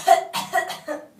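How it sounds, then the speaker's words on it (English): A hard, forceful cough given on request during a motor speech exam, three to four sharp, close bursts in quick succession, loud and clear with no talk. "cough hard like you're choking."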